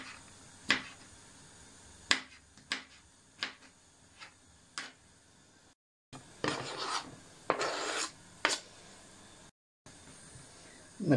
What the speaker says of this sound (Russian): Огурчик режем вот такой вот небольшой соломочкой.